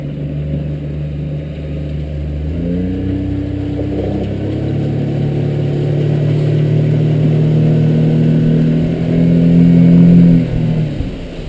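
A 2003 Alumaweld Stryker 15-foot aluminum boat's outboard engine idles low, then throttles up at about two and a half seconds into a steady, rising drone that holds loud and close before easing off near the end, with no talk.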